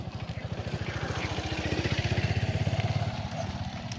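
A motorcycle engine runs close by with a steady, rapid pulsing throb that swells slightly and then eases, somewhere in Bohol.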